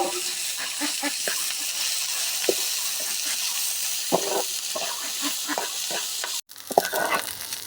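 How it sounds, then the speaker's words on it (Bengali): Onions frying in oil in a home kitchen, a continuous sizzle with scattered scraping stir strokes, steady and close, briefly cut off near the end before resuming. "পেঁয়াজ ভেজে নিচ্ছে"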